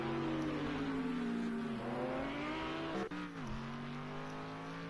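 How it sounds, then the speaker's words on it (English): A GT3 race car in Project Cars 2 at Hockenheim: a steady high engine drone that shifts pitch through a corner, with a short dip and a brief gear change near the end, and no voices. "Schwantz flying through the middle sector into the Mercedes curve"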